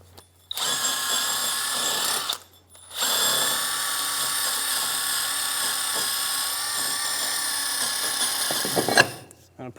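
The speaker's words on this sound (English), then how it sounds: "Using a wire brush or wheel, clean here in the face of the hub." A power tool whines loudly and steadily, pausing briefly once before running again, close by and continuous, a spinning wire wheel scrubbing the face of a 2003-2007 Infiniti G35 rear brake hub.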